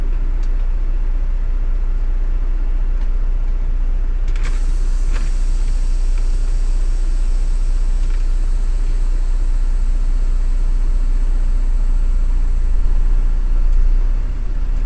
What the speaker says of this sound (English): I'm going to put the truck in the low gear and pull forward in a straight line